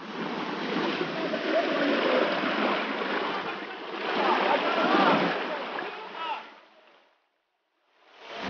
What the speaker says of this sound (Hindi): उस बाग में से वही पानी उसी तरह से बह रहा है